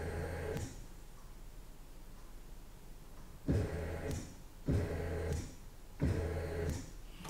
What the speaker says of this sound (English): as I fire the fuel pump, you'll see the light and the noise from the actual pump itself